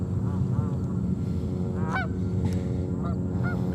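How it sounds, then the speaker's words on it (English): Several geese or ducks honk in short nasal calls, mid-distance and clear, over a steady, loud roar of jet traffic near JFK Airport in New York. "Hear the ducks?"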